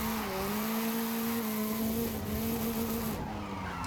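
Car tires skid through a handbrake drift in Forza Horizon 5 on an Initial D style build, a loud, steady screech layered over a droning engine note that shifts slightly in pitch, with no voices.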